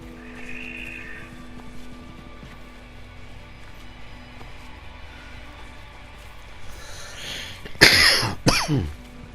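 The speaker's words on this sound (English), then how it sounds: "You can tell I've started smoking again. I've started coughing again." A man coughs up close, a harsh cluster of two or three coughs rising out of a quiet ambient hum near the end.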